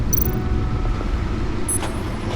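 A powerful car engine rated over 600 horsepower in Batman: The Enemy Within video game, a steady low rumble that holds level throughout, with a couple of brief high clicks over it and no talking.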